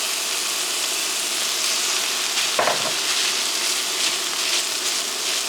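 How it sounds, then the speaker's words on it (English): Cooked rice tipped into a frying pan of already cooked peas and mushrooms for Japanese chicken rice: a loud, constant hissing sizzle with a brief thump and scrape partway through. "At this point, I'm going to add in the cooked rice."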